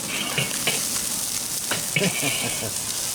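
Porterhouse steaks sizzle in a pan during a reverse sear, giving a steady close frying hiss with scattered pops and crackles and no talking.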